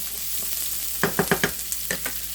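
Bacon added to onions and garlic frying in a pan. A steady close sizzle runs throughout, with a quick burst of several spoon scrapes and stirs midway.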